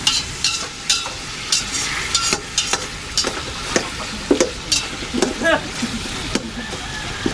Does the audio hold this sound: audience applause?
no